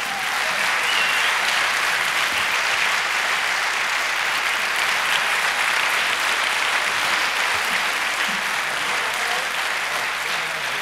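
An audience at a Slovenian business awards ceremony applauds a company and its director, sustained dense clapping from a large crowd filling the room evenly from start to finish.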